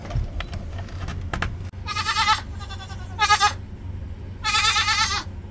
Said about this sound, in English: I also don't want goats in my bed this morning